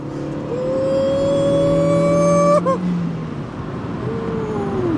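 A 2006 VW Polo GTI revs hard during a 0-100 km/h acceleration run, its engine note climbing steadily, then breaking off sharply at a gear change before the tone rises again more faintly.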